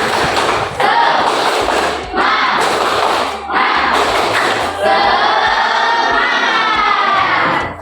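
A classroom of children does a rhythmic spirit-clap routine, bursts of clapping and shouting in several rounds, then sustained loud crowd noise of kids cheering and chanting together, close and energetic.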